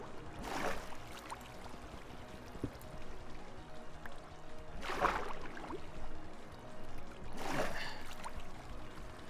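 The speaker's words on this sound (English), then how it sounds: "I'm gonna have to shut off this water" Flowing water in Minecraft gives a soft, steady trickle and rush, swelling into three brief splashy surges several seconds apart, all fairly quiet.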